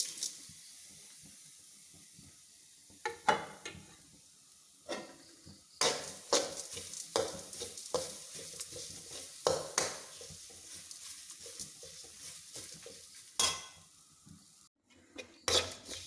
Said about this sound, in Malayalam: ഒരു മുറി തേങ്ങ, 1 ടീസ്പൂൺ മല്ലി, 6 വറ്റൽമുളക് ഇതെല്ലാം കൂടെ വറുത്തെടുക്കാം